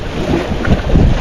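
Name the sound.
wind on a rock island in the ocean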